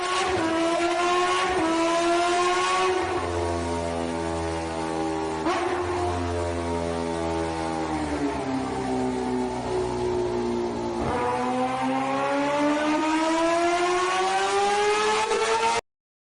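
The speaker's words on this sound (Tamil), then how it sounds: "பைக் ரேஸும் முடிஞ்சிருது." Motorbike race engines roar continuously and loud, with rising and falling revving pitch as bikes accelerate and shift, several machines overlapping close by.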